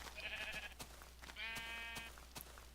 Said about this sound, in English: Alright, you're sheep.